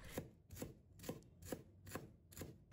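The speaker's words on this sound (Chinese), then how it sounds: "再切成末。" Knife mincing peeled fresh ginger on a cutting board, six sharp evenly spaced chops about half a second apart, close and fairly quiet, with no voices.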